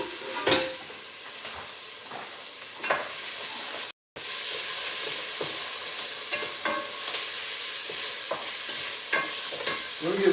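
Onions sizzle loudly in hot oil in a pan, a constant frying hiss broken by repeated scraping stirs and one brief drop-out, with no talking.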